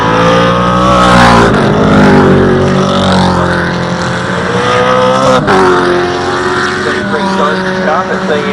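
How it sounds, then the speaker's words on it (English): A BMW 836 race car with a V8 engine roars loudly and continuously during a Super TT race at Winton, its engine pitch rising and falling as it accelerates and shifts. "that's BMW 836, which is powered by a V8 motor"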